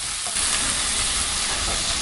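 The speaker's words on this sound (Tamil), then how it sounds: "இப்போ நம்ம வெங்காயம் போட்டுக்கலாம். பொன்னிறமாகிற வரைக்கும் நல்லா வதக்கிக்கணும்." Onions sauté in hot oil in a pan while vegetable or egg biryani is being cooked, giving a steady, dense, close sizzle that lasts the whole stretch without pauses.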